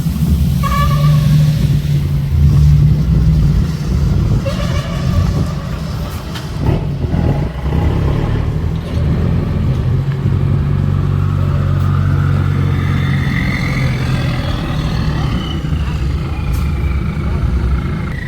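A car engine drones and revs up and down continuously and fairly close, with a person talking over it throughout.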